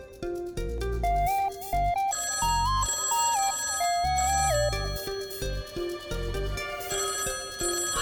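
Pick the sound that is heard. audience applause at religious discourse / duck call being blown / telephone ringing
telephone ringing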